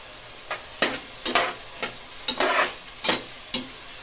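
Chopped tomatoes with turmeric powder frying in a pan for vangi bath, stirred with a spatula in a series of sharp scraping strokes over a soft steady sizzle, close and without talk.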